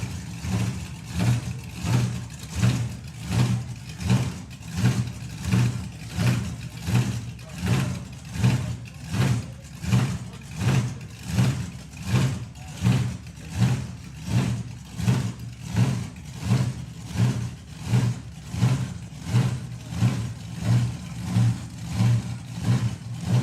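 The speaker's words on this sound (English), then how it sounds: "The car's refired." A drag racing car engine refired at the Greenlight Nationals drag strip, running in a steady loud rhythmic pulsing throb that repeats roughly once per second for the whole stretch, close and continuous with no talk.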